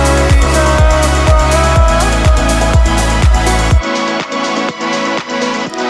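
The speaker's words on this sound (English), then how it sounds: "We are going to set the EQ to focus only on the mid-range by cutting everything below" Music mix played full-range with strong bass, then switched to an EQ'd version cutting below 250Hz and above 6kHz, leaving a thinner mid-range sound; loud and continuous with no speech.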